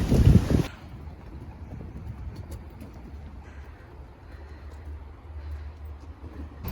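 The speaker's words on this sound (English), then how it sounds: "It's a really pretty day so far, apart from the wind." Wind gusts buffet a narrowboat on a London cruise: a short loud blast of microphone wind noise opens, then a low, steady rumble of breeze continues faintly.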